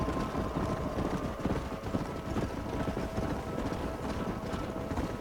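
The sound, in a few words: herded horses galloping in the video game Red Dead Redemption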